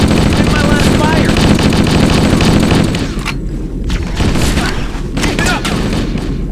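Video game gunfire from Halo: Combat Evolved on the Pillar of Autumn mission: dense, sustained automatic fire with booming hits, loud and continuous, then thinning into separate bursts, with game voices in the background.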